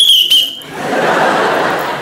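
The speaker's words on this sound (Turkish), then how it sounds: "Düdükle soruyorum." A whistle is blown in a Turkish comedy sketch, two sharp, loud shrill blasts at the start, followed by audience laughter and noise.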